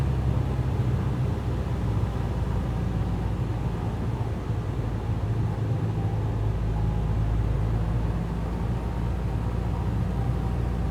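Steady low engine drone of a Van's RV-8 light aircraft in a flight simulator, the throttle being cut back on approach to a long runway in a strong crosswind, filling the whole stretch with an even rumble and no talk.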